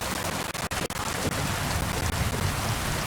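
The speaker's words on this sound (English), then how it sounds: "It rains slow." Steady rain falls in the medieval world of Kingdom Come: Deliverance II, a continuous even hiss of drops with a few faint distant knocks and no voices.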